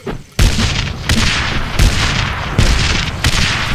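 Grenade explosions in the Darkest of Days video game: several loud, close blasts go off in an irregular series, each a heavy boom with a rumbling tail, and no talk between them.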